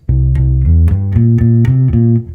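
A bass guitar plays a short riff of plucked low notes on a root note of C, in a steady rhythm, close and clear with no voices.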